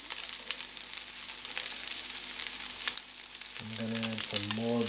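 Meatballs fry in butter in a pan, giving a dense, crackling sizzle that runs throughout and swells slightly toward the end, where a voice briefly hums or speaks underneath.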